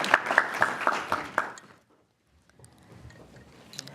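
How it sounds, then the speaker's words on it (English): An audience claps at a commission panel event, about a second and a half of applause that quickly dies away into near silence, then a quiet room. "Let's give them a round of applause."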